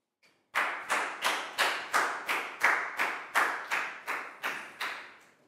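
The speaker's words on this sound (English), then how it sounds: "Big round of applause for Chu," Classroom pupils clapping together in a slow, even rhythm, about a dozen distinct group claps in a row, close and clear with no talking.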